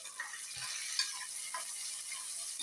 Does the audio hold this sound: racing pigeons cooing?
no